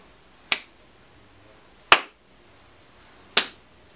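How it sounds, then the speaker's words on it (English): Slow clap in a noir-style comedy scene: three single sharp claps spaced about one and a half seconds apart, crisp and close in otherwise near-silent surroundings. "let me give you your much-deserved slow clap"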